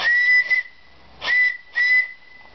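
A loud, shrill whistle on a fairground ride near a big Ferris wheel sounds three times, each a sustained blast lasting under a second with short gaps between.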